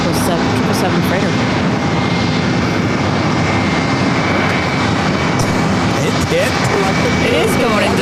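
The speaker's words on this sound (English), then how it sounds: "Coming in next, we have Eva Air Cargo coming in from Anchorage." An Eva Air Cargo Boeing 777 freighter arriving from Anchorage lands at JFK with a steady, loud broadband jet roar, with a person talking over it.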